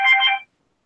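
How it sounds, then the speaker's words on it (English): A telephone rings once in a single short electronic burst of about half a second, fairly clear and alone, then silence follows. "Phone. Wait a minute, let's answer this."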